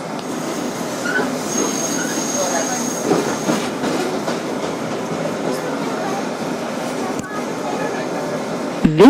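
A 2012 Kawasaki R-188 subway car, numbers 7811/7821, running as a Flushing Main Street bound 7 local on the IRT Flushing line, with rolling rumble, clickety-clack and a high wheel squeal, recorded from inside the train.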